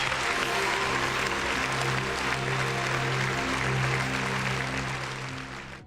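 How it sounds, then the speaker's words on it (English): A big round of applause rings out for a friend in the room, with dense, steady clapping filling the whole stretch before tapering off at the very end over a low background hum. "Big round of applause."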